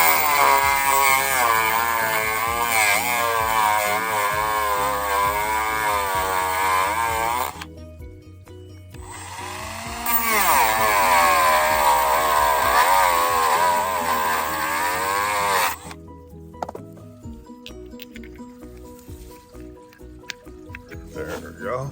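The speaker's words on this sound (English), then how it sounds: "so I'm going to grind it a little" An angle grinder grinds down a bent Huth Bender 825 quick-change tooling holder, a loud sustained metallic whine in two long passes separated by a short pause, then lighter intermittent contact.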